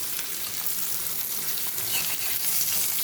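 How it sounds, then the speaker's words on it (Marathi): Fish fry in a hot pan with mint, giving off a steady, bright sizzle and crackle that holds evenly throughout with no voices. "बघा फ्रेंड कसे मासे परताय लागले"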